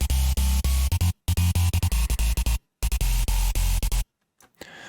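A synthesizer patch with no distortion applied plays a clean, choppy sequence of short pulsing notes, dropping down an octave, with abrupt gaps of silence between phrases, fading out at the end.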